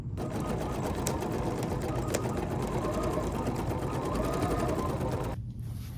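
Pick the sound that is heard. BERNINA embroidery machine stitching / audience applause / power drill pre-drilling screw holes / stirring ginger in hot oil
BERNINA embroidery machine stitching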